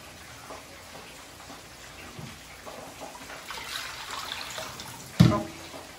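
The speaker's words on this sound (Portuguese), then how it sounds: "É muito importante que nós passemos esta batata por água" Cut potatoes rinsed under running tap water in a kitchen, a soft continuous trickle and splash with a brief louder clatter near the end.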